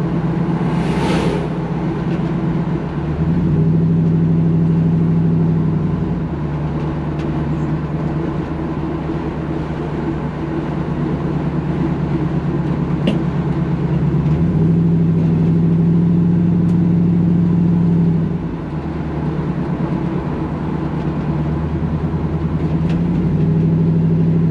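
A Ford F100 truck with a Crown Victoria engine swap and aftermarket exhaust idles with a steady low rumble, swelling in a few short revs over about 25 seconds.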